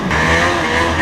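A Ski-Doo Formula Z 583 snowmobile engine drones close and loud while being ridden, a steady high-revving two-stroke whine with no speech over it.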